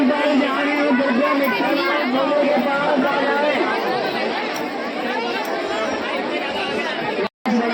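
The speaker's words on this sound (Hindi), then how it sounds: "पता इतनी भीड़ है बहुत ज्यादा" Dense crowd chatter from many voices fills the space steadily and loudly, a constant hubbub with no single voice standing out, cutting off briefly near the end.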